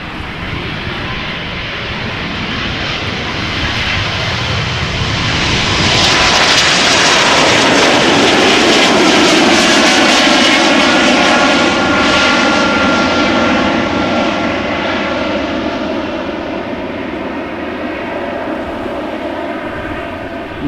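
An Embraer 195 E2 jet departing Amsterdam Schiphol for Copenhagen, its engine roar swelling loud and close as it passes, then slowly fading, alone with no voices.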